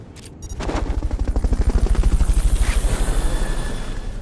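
A helicopter's rotor thumps in a fast, steady rhythm, loud and close, swelling in and holding with no talking, in the video game Metal Gear Solid Peace Walker.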